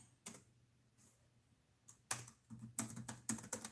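Typing on a computer keyboard, close and clear: a few scattered key clicks at first, then denser bursts of rapid keystrokes toward the end, with no talking.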